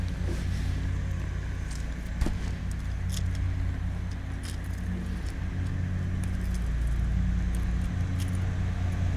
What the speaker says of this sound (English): Sorry for the mowing noise.